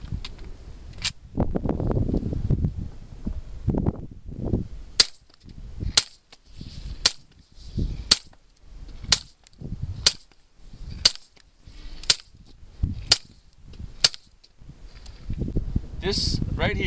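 Suppressed gunshots fired one at a time at a steady pace of about one per second, each a sharp crack outdoors, with someone talking between the early and late shots.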